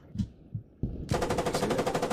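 Rapid automatic gunfire rattles in a fast, steady burst in a video game, loud and close, as an ammo box is shot down after a few soft thumps.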